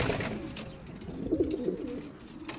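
French meat-breed pigeons coo in soft, low, throaty calls, several rolling coos clustered in the middle, close by over a background hum.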